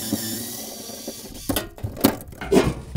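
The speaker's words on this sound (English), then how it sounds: "so remove the rack supports" Refrigerator rack supports are unscrewed and pulled free, with irregular close clicks, ratcheting and clunks of metal and plastic parts that grow louder toward the end, and no talking.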